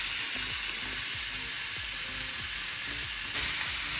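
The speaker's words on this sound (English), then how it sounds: "So let's let these sear for a little bit" Chicken breasts sear in a hot pan with a steady, loud broadband sizzle and occasional soft clicks or shifts of the meat, with no talking.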